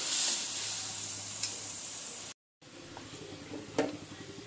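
Potatoes fried in a pan with ginger and cumin paste give a steady close sizzle, with a short break midway and a few sharper crackles and stirring clicks near the end.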